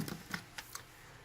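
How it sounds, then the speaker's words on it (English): A sticker being peeled off a Blu-ray case, heard as a few faint, quick crackling rips close by in a quiet room. "Take the sticker off."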